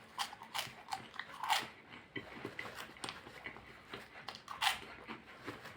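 Someone bites into and chews sweet, unglazed corn sticks, giving close, repeated crisp crunches and crackly chewing in an irregular rhythm, fairly quiet with no talking.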